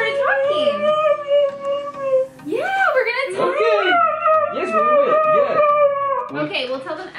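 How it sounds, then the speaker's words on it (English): A husky vocalizing with howl-like, whining, talk-like rising and falling sounds, loud and close, continuous over several seconds with short breaks. "As you guys know, huskies are vocal dogs."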